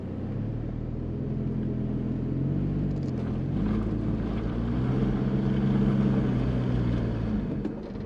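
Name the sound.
4x4 with front diff locker crawling straight over rocks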